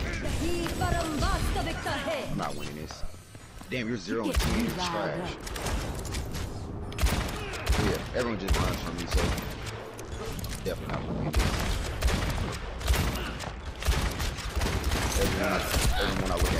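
Rapid gunfire from Ashe's rifle in a free-for-all match crackles in dense bursts throughout, mixed with game effects and a player talking over the shots.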